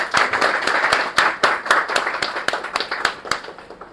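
Small group of people clapping at an office inauguration, distinct close claps in a quick, slightly uneven rhythm that thin out and fade near the end.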